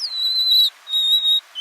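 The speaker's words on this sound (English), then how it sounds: "So here's golden-crowned sparrow." Golden-crowned sparrow song: two clear, high, plaintive whistled phrases, each a long sustained note sliding slightly down, separated by a short pause, with a third phrase starting at the end. Close and alone, with no talking.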